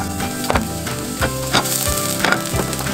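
Garlic hits a hot, lightly oiled pan while making Mexican shrimp tacos, giving a close, steady sizzle broken by several sharp wooden taps and scrapes at a loose rhythm.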